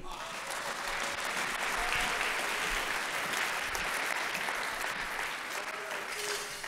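Congregation in a church breaks into sustained applause, a thick wash of clapping from many hands with cheering voices mixed in, steady from start to finish.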